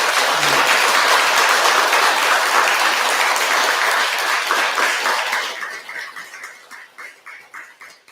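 A congregation at a Buddhist temple Sunday family service gives a big round of applause for a choir, dense loud clapping that thins toward the end into a few slower distinct claps fading out.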